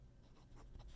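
A large metal-nib fountain pen wetly scratching across paper, a few faint close strokes in a quiet room with no voices.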